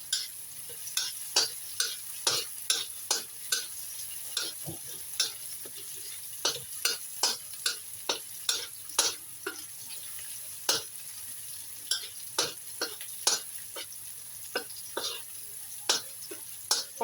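Eggplant sizzles steadily in a hot pan while a spatula scrapes and taps in quick, irregular strokes, close and clear throughout with no talking.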